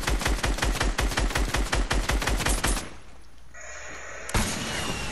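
A minigun fires in Fortnite, a close, rapid and evenly spaced stream of shots for about three seconds that then cuts off, leaving quieter game sounds and a sharp crack.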